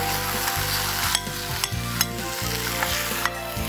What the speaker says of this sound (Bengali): তারপরে মাছটা দেবো, আদা পেঁয়াজ রসুন বাটাটা দেবো